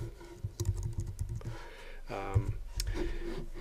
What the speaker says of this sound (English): I'll just type something like this.